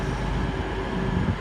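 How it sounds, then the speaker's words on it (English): A South Western Railway train rolls into Exeter St David's station bound for London Waterloo, a loud close rumble with steady mechanical drone and rail noise throughout. "We've got a South Western Railway service coming in, going to London Waterloo."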